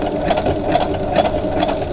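A sewing machine stitches scrap pieces of quilt batting together, a steady, loud, close mechanical whir with a quick regular stitching pulse and no talking.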